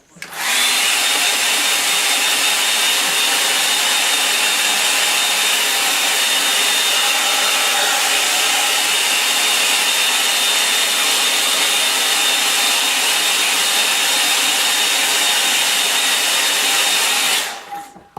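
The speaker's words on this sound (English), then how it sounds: "I'll give it a bit of a dry with a hairdryer." A hair dryer blows continuously at close range to dry a painting, a loud steady whirring hiss that starts abruptly and cuts off near the end.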